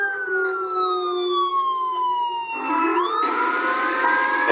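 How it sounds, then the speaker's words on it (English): Wailing emergency sirens, likely police, sweep up and down in pitch behind a phone call, steady and fairly loud, with a second siren pattern switching in partway through. "All those sirens in the background, I thought something may have happened."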